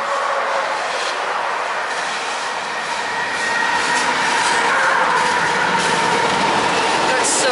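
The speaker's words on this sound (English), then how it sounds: "I hear a train coming." A train rolls past on railway tracks outdoors, a broad steady rumble and rushing noise that swells slightly as it nears, with faint clatter, heard without talk.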